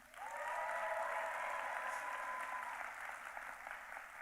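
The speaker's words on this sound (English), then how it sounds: "please join me in another round of applause recognizing the achievement of these students" A graduation audience at a pharmacy school hooding and diploma ceremony claps for the students, a soft, steady patter of applause that sounds distant and fades slightly toward the end, with a faint sustained tone underneath.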